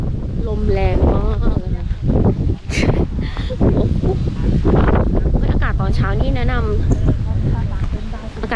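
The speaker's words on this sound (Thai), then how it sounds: "ลมพัดตลอด" Strong wind buffets the microphone at a stacked-stone bridge near the Pilok mine in Ithong village, a loud, rough, continuous rumble under a person talking.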